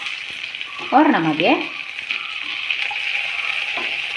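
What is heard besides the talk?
chopped tomato frying in a pan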